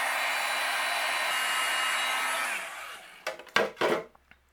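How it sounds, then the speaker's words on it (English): A heat gun blows a steady, loud roar while melting white embossing powder on a Christmas shaker card, then cuts off and a few brief handling knocks follow. "I'll use my heat gun and"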